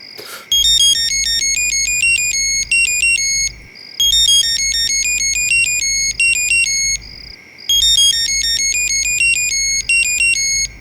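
A mobile phone plays a bright, looping electronic ringtone melody, loud and close, in three repeated bursts separated by brief pauses, with no talking.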